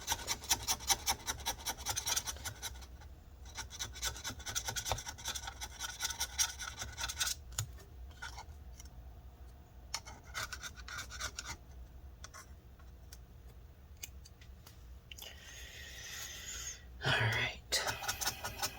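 Adhesive residue being scraped and rubbed from inside a 13-inch mid-2017 MacBook Pro A1708 during battery replacement, with fast close scratching strokes in bursts, pauses between them and a louder scrape near the end.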